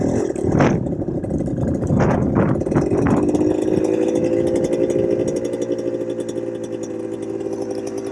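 A GPX motorcycle engine with a carburettor idling high: a few sharp revs at first, then a steady, loud, buzzing idle that holds close by.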